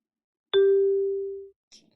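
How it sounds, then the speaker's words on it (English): A single clear bell ding strikes once and rings out with a long sustained tone for about a second before fading, loud and close, followed by a brief faint noise. "Now, when the bell rings,"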